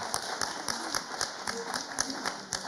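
An audience at a Sanremo music festival applauds a woman on stage after a magic trick, producing steady, evenly spaced claps in a rhythmic beat over a dense crowd murmur, with voices underneath.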